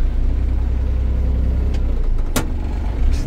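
Kubota KL345 high-speed tractor driving in second gear, a loud, steady engine drone with a low rumble throughout and a short sharp knock or click partway through.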